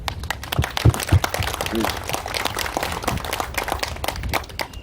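Applause from a gathered audience at an outdoor founding ceremony and memorial service in Tapgol Park, Jongno, Seoul, a scattered burst of clapping with a few louder claps standing out over a background of voices.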